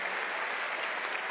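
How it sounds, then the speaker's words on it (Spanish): An audience at a live stand-up comedy show in Mexico City applauds a couple, a dense, steady wash of many hands clapping at moderate level throughout, with no voices over it. "El aplauso, por favor, para Beto y para Paulina."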